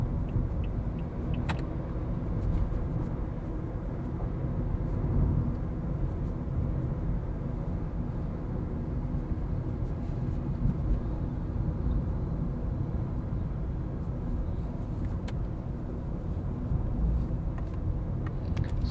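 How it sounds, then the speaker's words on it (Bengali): Inside a 2012 Toyota Auris hatchback on the move, steady wind and road noise form a constant low rumble and hiss throughout, with an occasional faint click and no talking. "টয়োটার এইটার ক্ষেত্রে দেখবেন যে সাউন্ডটা একটু বেশি, উইন্ড নয়েজ এবং রোড নয়েজটা দুইটাই ভালো পরিমাণে বেশি"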